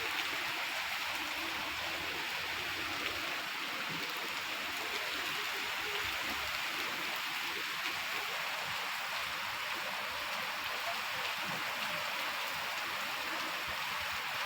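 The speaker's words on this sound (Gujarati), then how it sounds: "મોરબીનો વરસાદ" Heavy rain falls in Morbi as a constant, dense hiss with an even, unbroken wash of droplets and no pauses throughout.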